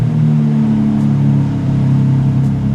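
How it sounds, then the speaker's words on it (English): A BMW M3 Touring engine in its loud exhaust mode fires up and settles into a steady, strong idle rumble with a slight rev, close and loud, no voices. "You can then start the engine and it sounds like this."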